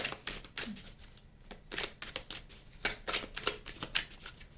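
Tarot cards are shuffled close by in quick, crisp riffling bursts and soft slaps, irregular and fairly quiet, with no talking.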